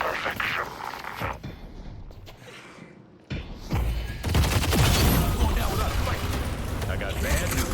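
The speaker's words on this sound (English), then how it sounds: "All of them started shooting at me." Enemies open fire in a video game, producing bursts of rapid gunfire and clattering mechanical noise that swell loud and dense, mixed with brief quieter gaps and a person talking over the action.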